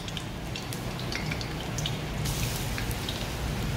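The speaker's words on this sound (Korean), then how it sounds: "비가 와." Rain falls steadily outside during the rainy season, a soft continuous patter with scattered sharper drips, heard from indoors in a home kitchen without any voices.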